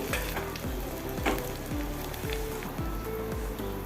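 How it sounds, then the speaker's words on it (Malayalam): Oil sizzles steadily with sharp crackling pops of mustard seeds, crushed garlic and dried red chilies frying, close and continuous, with no voices. "അര ടീസ്പൂൺ കടുക് ഇട്ട് കൊടുത്ത് കടുക് പൊട്ടി കഴിഞ്ഞ വെളുത്തുള്ളി ചതച്ചതും വറ്റൽ മുളകും കൂടി"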